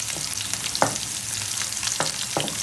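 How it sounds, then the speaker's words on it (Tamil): Garlic with mustard seeds frying lightly in a pan, a soft steady sizzle with a few sharp pops or stirring scrapes near the pan. "பூண்டு போட்ட உடனே கொஞ்சோண்டு இது லைட்டாக ஃப்ரை பண்ணிக்கலாம்."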